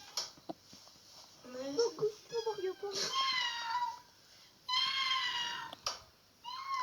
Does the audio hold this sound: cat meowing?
yes